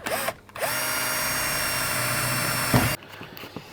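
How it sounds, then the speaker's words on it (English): A power drill drives screws to fix a speaker body into a car door, with short whirring bursts, a long steady high-pitched run and an abrupt stop, heard close up. "So just screwing that speaker body into the hole."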